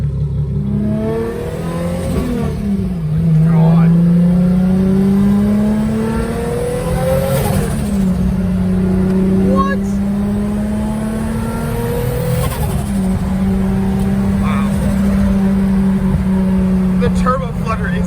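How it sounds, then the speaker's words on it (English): An RB25-swapped Nissan 240SX making about 500 hp revs hard through its gears, the engine note climbing and dropping repeatedly with turbo flutter and no blow-off valve, loud and close over a continuous roar, with people talking over it. "Turbo flutter is insane, dude."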